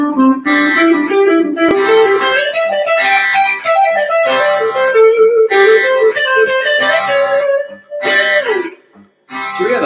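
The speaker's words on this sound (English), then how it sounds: "It's got a very distinctive sound, the major pentatonic." Electric guitar playing a widely spaced major pentatonic scale through effects, loud sustained single notes climbing and falling with a chorus-like shimmer, briefly pausing near the end.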